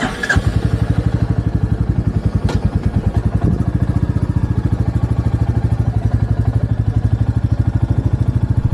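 Royal Enfield Bullet 350 single-cylinder engine thumping steadily while being ridden, a loud, close, even pulse throughout with no talking.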